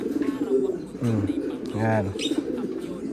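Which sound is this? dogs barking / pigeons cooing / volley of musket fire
pigeons cooing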